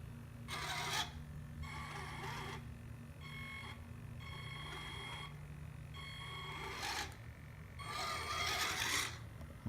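Kyosho Blizzard RC tank driving and turning, its small electric motors whirring in repeated short bursts over a steady low hum, fairly close and moderately quiet.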